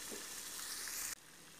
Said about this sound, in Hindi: तकरीबन 2 से 3 मिनट तक हम इसको तेज़ आंच पे इस तरह हिलाते रहेंगे, पकाते रहेंगे इसको